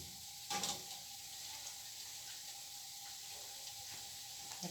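Donuts frying in hot oil, a soft steady sizzling hiss with a brief louder burst of crackle near the start.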